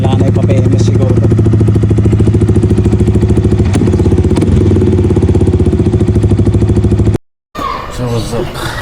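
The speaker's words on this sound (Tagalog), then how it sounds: "Yung motor natin ang hirap andarin after North Loop Luzon Loop." Yamaha XSR 155 motorcycle struggling to cold start after a long North Luzon Loop ride, with its engine chugging in a loud, rough, rapid clatter close by for about seven seconds before cutting out, followed by someone talking.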